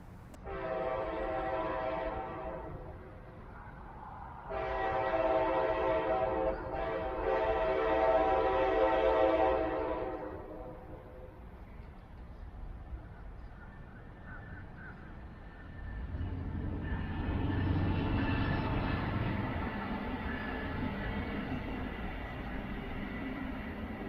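A Brightline passenger train passes northbound, sounding its horn in two long blasts and then a shorter one before a broad rumble of wheels and rolling stock takes over, heard from trackside with no voices.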